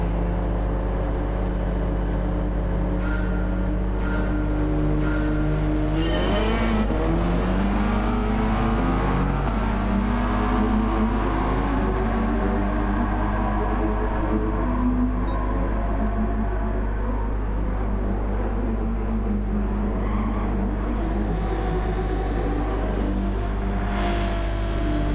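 A race car engine roars continuously in Gran Turismo 7 at the Red Bull Ring, loud and close, revving and shifting through gears as pitch climbs and drops, with no talk over it.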